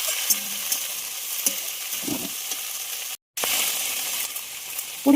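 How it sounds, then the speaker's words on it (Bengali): Water spinach (kalmi greens) frying in a wok after onion and garlic, a continuous close sizzle with occasional scraping stirs and a brief gap before the hiss resumes. "পেঁয়াজ রসুনগুলো ভাজা হয়ে গেলে আমরা দিয়ে দেবো কলমি শাক।"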